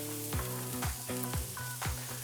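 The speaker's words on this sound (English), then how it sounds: "we're gonna baste only our tenderloin steak" Tenderloin steak being basted with melted butter in a pan, a close, quiet sizzle broken by repeated rhythmic spoon strokes roughly every half second.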